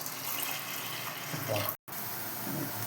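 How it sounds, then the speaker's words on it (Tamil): Water pours steadily from a tap or vessel into a pressure cooker while cooking dal payasam, a continuous close splashing rush broken by one brief silent gap. "தண்ணி ஊற்றுக்கலாம்"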